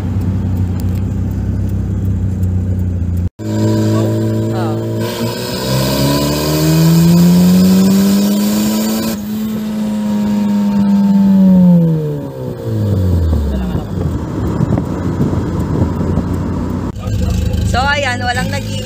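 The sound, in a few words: turbocharged Mazda Miata engine revving in second gear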